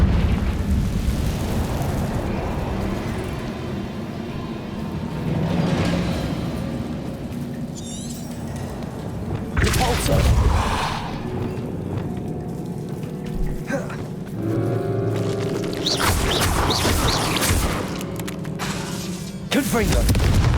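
Confringo fire-blast spell cast in Hogwarts Legacy on Switch: several sharp bursting explosions with crackling tails spread across the stretch, under ongoing character dialogue and ambient game sound.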